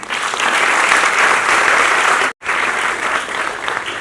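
Loud, dense applause from a large seated audience at a gathering honoring guests, a steady wash of clapping that drops out for a split second near the middle and then resumes just as full.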